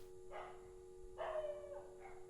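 A dog indoors gives a couple of short, sharp barks spaced apart, fairly faint and with a light yip at the end, over a quiet steady hum.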